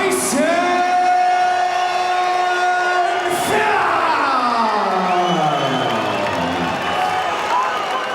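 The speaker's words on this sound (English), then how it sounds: "A deafening ovation for the White Mike Tyson." A large arena crowd at a BAMMA 6 MMA event roars and cheers in a loud, sustained ovation for a fighter, with swelling shouts and whoops mixed with ringing, amplified announcer speech.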